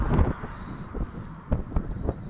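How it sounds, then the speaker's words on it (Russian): Strong wind in an open outdoor setting during a long-distance journey in harsh weather, buffeting the microphone with low rumbling gusts and a few sharper flaps, steady and close throughout. "Ветер сильный."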